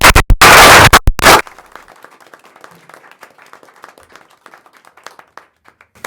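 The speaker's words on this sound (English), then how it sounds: "let's give them a round of applause" Applause at a school board meeting, opening with a short loud burst of noise and then thinning into light scattered clapping from a small room that fades toward the end.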